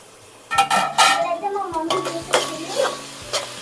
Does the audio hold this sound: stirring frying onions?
yes